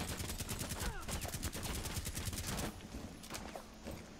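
Sustained rapid gunfire in Rainbow Six Siege shooting through walls, dense bursts of automatic shots throughout, loud and continuous with a brief easing near the end.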